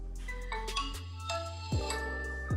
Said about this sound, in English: here's a quick snippet from my first boot video